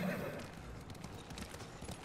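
Horse hooves from the video game Ghost of Tsushima clip-clop in a steady rhythm, close by, with a voice talking over them.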